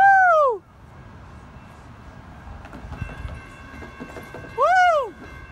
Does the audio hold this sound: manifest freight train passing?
yes